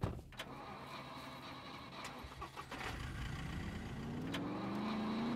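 A car in the survival video game Scum, its engine starting and idling with a steady mid-pitched hum and a rising tone near the end, close and continuous throughout with no talk.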